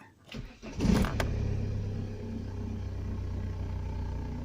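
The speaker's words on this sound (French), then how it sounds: "Voilà, ça démarre au quart." A Saab 9-3 TiD with the Opel 2.2 DTI diesel cranks briefly and catches right away, settling into a steady, low, close idle rumble.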